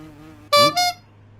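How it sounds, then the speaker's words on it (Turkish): A bee's short, loud buzzing drone sounds in two quick bursts, close by, after a moment of low hum. "O ses arı sesi mi ya? Nerede acaba?"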